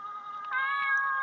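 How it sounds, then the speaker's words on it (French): A cat meows in a video game, a single drawn-out, tonal mew lasting about a second at moderate loudness, with no voices over it. "C'est le chat de Jade."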